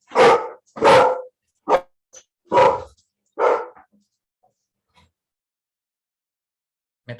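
A dog barks loud and close, five sharp barks in an uneven burst, then near silence with a faint last bark at the end.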